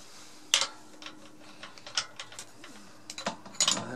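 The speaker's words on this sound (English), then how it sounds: "this is just gonna be about half a minute of turning the wrench" A wrench turns on a cup and cone bicycle rear hub, making quiet ratcheting clicks in irregular bursts, with a few sharper louder clacks, close up and without talk.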